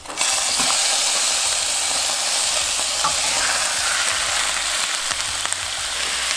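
Ground beef frying in a pan used to warm tortillas for a Mexican-style seven-layer dip casserole, giving a steady, loud sizzle with light stirring scrapes and clinks throughout, no talking.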